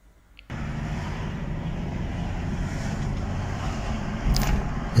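A GMC Terrain with a P2101 throttle fault code drives on the road; after a brief near-silence, a steady engine and road rumble starts and holds evenly, growing slightly louder at the end, with no talking.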